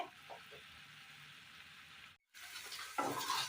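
Carrot pieces and green mango simmer in a pan of water for a Kerala mango mezhukkuperati, giving a faint, steady low bubbling and hiss, broken by a brief silence, then a louder burst of sizzling and stirring near the end.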